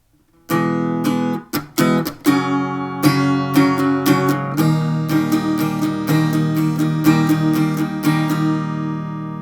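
Strummed guitar chords played solo, a few sharp strokes at first and then a steady rhythmic strumming pattern, close and fairly loud.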